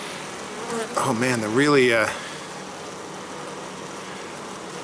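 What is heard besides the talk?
honey bees buzzing at an opened hive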